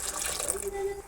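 Water is poured into a pressure cooker holding curry leaves, turmeric and ginger-garlic paste for radish dal, a brief close gush whose pitch rises as the pot fills.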